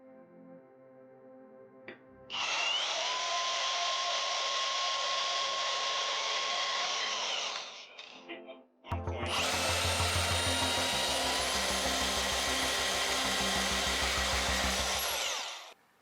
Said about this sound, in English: I'm going to take those back out and chop them down